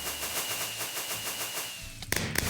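Fireworks explode in Minecraft, the video game, at a New Year party. A rapid, rattling series of pops runs steadily, then two sharp, louder bangs burst near the end.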